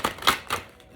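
Healing cards being shuffled, giving three quick crisp riffles in about a second, close and fairly quiet with no talking.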